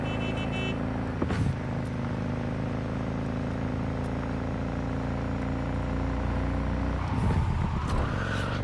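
The Caliburn car in Cyberpunk 2077 drives along with a steady, smooth engine drone that holds level throughout, swelling slightly as it shifts and turns near the end, with no voices.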